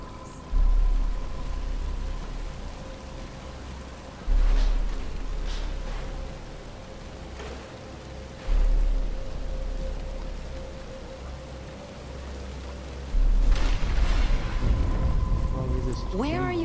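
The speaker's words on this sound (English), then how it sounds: "But it's starting to rain." Rain falls in the video game Batman: Arkham Asylum, a steady soft patter under a low droning score with a few deep booming swells, while characters talk over it.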